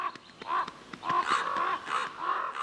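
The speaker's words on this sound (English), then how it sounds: "excited ravens alert the wolf pack to a feeding opportunity" Excited ravens call at a forest edge near a wolf pack, a flurry of harsh, repeated caws from several birds overlapping at close to middle distance.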